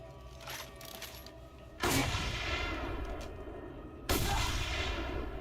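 Two heavy sniper rifle shots in a video game, each a sharp loud blast with a long booming tail, spaced a couple of seconds apart over faint background noise.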